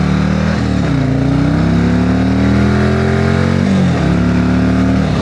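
A Harley-Davidson Street Glide Ultra with the Milwaukee 8 117 V-twin revs loud and close, its deep, lumpy exhaust note rising in a steady climb, dipping briefly near the end and then pulling up again.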